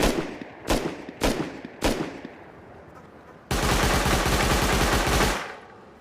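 M2 gunfire in a video game, three separate sharp shots in a row, then a sustained rapid automatic burst lasting about two seconds, loud and close with no talk over it.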